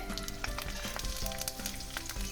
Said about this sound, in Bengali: ফোড়নে দেবো 4টে কাঁচা লঙ্কা আর একটু কালো জিরে।